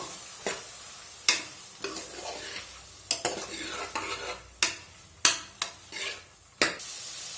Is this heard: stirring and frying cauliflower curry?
yes